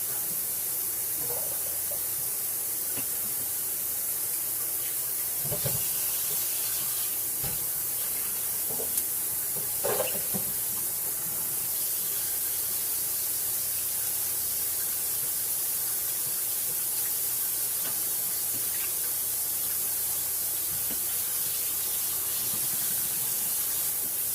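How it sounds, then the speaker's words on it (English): Peeled garlic is rinsed under running water while canning pickled garlic, giving a steady broadband hiss of flowing water throughout, with a few faint knocks from handling near the middle. "Now I am going to rinse this garlic, the garlic that I peeled, just to make sure any of the loose skins get off of here."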